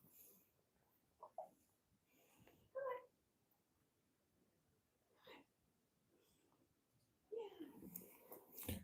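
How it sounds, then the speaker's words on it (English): A cat meows a few times in short, scattered calls over a quiet background, with a louder burst near the end, while people talk faintly nearby. "There goes the cat"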